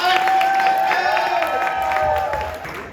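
An audience at a Pride 2022 event claps and cheers for award presenters, a dense, steady wash of applause with some whoops and voices mixed in, fairly loud and close throughout.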